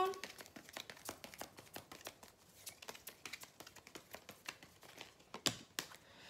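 Tarot cards dealt out for a love reading, with a long run of quick, crisp snaps and flicks of card stock laid down one after another in close succession.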